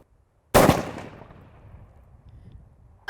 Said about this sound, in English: I can make my shot, no problem.